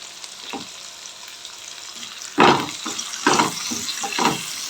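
Potatoes tipped into a pan with turmeric and frying, with a faint quiet sizzle and then a burst of loud hissing and scraping stirs in several uneven pulses.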